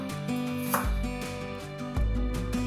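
Vegetables are chopped with a knife on a board for Kerala thal moru curry, with a few close, rhythmic thuds and slices under a faint kitchen hum.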